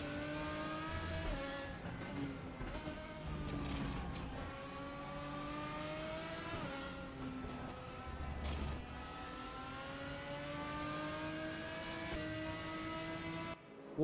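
A race car engine drones steadily at close range, its pitch rising and falling with gear changes for the whole stretch before cutting off abruptly at the end.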